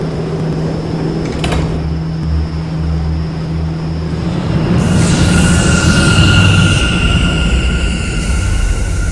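Subway train doors on a Brooklyn-bound C local train in a Roblox game slide shut with a chime and a thud. A steady electric motor hum continues over the station background.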